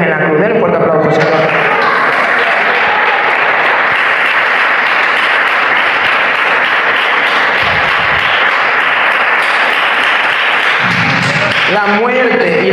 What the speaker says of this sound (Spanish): Denle un fuerte aplauso, Señor.